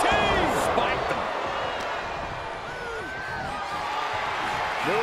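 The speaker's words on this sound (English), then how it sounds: "Oh my God, DDT! Spiked him." A DDT slam in WWE 2K23 during a 20-man Royal Rumble, a dull thud landing over a constant roaring arena crowd with whistles and calls, commentary voices running on top.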